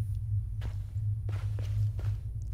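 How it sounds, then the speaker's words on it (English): Footsteps in the horror game Slender: The Arrival land a handful of times at an uneven walking pace, close and distinct over a steady low hum. "what is wrong with my footsteps in this game?"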